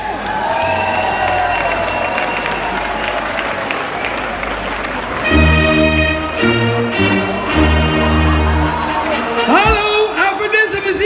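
A crowd gives loud applause and cheers to welcome the St. Sebastianus Mheer band at a celebration in Sevenum. Dense clapping runs throughout, and music starts about halfway in, playing over the ongoing applause.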